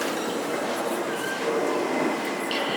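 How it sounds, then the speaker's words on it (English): Bronx Zoo monorail train rolling and beginning to slow, a steady close rumble of wheels on track with faint rail squeal, carrying on evenly throughout with no talk. "In a couple of moments I'm going to slow the train down"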